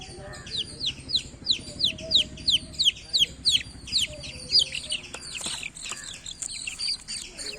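Many high, rapid peeping chirps from young Brahma chicks, repeating almost continuously and close by, with a low hum underneath.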